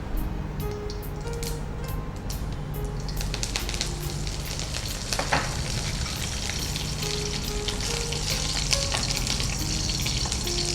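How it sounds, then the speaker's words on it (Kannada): Curry leaves and mustard seeds sizzle in hot oil, a dense, continuous crackle with sharp popping bursts, close and fairly loud with no talking. "ಮತ್ತು ಸಾಸಿವೆ ಸಿಡಿದ ಮೇಲೆ ಕರಿಬೇವು."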